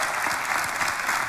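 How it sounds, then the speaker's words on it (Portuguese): Studio audience on a Portuguese television game show applauds a birthday guest named Paulo, a steady wash of clapping filling the whole moment without pause. "Para o menino Paulo, uma salva de palmas"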